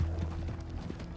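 Horse hooves clip-clop at a steady gait in the Red Dead Redemption 2 video game, a soft rhythmic clatter over a low rumbling game background, with no voices.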